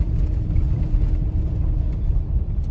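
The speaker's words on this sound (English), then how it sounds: "driving into the farm" A vehicle towing a pizza oven trailer drives into a farm, giving a steady low engine and road rumble that stays close and even throughout.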